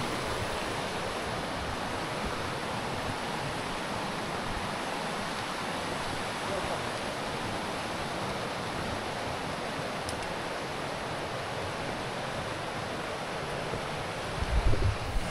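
Clear stream water from Rara flows steadily downhill toward the Karnali river, a continuous broad rushing wash that stays alone and even throughout, with a slight swell near the end.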